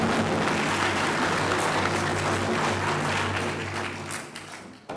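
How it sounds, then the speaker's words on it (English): A crowd gathered outdoors for a Coast Salish Day celebration claps steadily in a dense, continuous wash of applause that gradually fades toward the end. "Give yourselves a big round of applause."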